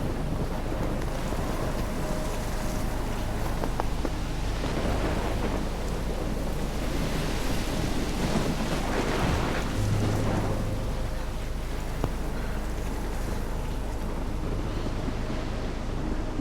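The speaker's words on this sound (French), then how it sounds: "elle est quand même grosse cette tempête" Storm in the video game Life is Strange: heavy rain hissing steadily under low rolling thunder rumbles, loud and continuous throughout with no voices.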